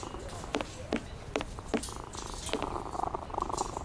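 A cat purrs softly and steadily in a Sherlock Holmes Vs Jack The Ripper game scene, with faint periodic clicks and a light background tone over the low, continuous rumble.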